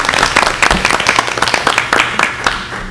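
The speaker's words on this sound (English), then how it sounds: "That deserves a round of applause" Enthusiastic applause at a school board of education meeting, a dense burst of many hands clapping, loud and continuous for the whole stretch with slight swells.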